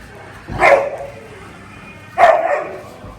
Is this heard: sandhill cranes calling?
no